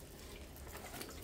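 Uma leaves rinsed under running tap water, giving a continuous soft, close rush of water with no talking.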